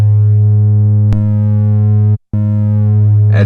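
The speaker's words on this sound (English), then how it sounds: "rhythmic modulation, basically rhythmic saturation effects, because the LFO is driving more voltage into the mixer in a rhythmical way" A Moog Grandmother synthesizer holds a steady, buzzy sustained tone that a slow sine-wave LFO pushes into the mixer to create rhythmic saturation. The tone is loud and constant, with one brief click and a sharp dropout near the end.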